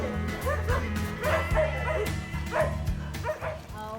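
Dogs at the Elephant Nature Park sanctuary bark and yip in short, repeated bursts with an occasional whimper, fairly close, over a steady musical backdrop.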